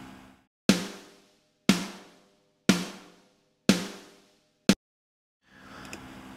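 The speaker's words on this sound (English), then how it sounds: "the snare sounds like this" Five identical Steven Slate Drums sample snare hits at an even, roughly one-second pace, each a sharp crack with a quick decaying tail, followed by faint noise.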